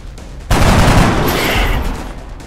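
Gunfire from soldiers shooting in the strategy video game XCOM: Enemy Unknown, a sudden loud burst of rapid shots that breaks in and rolls on as a dense, sustained fusillade before easing slightly.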